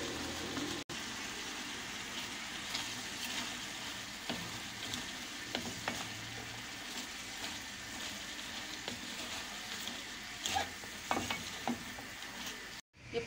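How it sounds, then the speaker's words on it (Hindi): Steady sizzling and crackling from a pan as cabbage stir-fries for macaroni, with occasional scraping and clinks of a utensil throughout. "अब हम इसमें बंद गोभी डालेंगे।"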